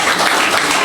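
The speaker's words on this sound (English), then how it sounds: "a big clap for them" A brief, dense burst of audience clapping at a school Teacher's Day celebration, loud and alone.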